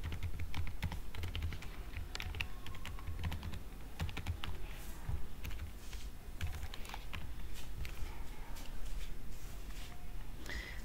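Rapid clicking keystrokes on a computer keyboard as an email address is typed, a steady near stream of taps with brief pauses, alone with no talk.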